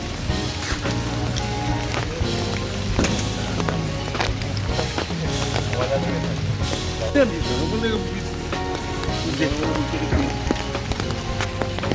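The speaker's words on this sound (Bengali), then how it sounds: "এখন বৃষ্টি হচ্ছে আজকের দিনটাতে খুব বৃষ্টি" Rain patters steadily on a surface nearby at a houseboat in Barrackpore, with scattered louder drops and taps, while some faint background sounds come and go.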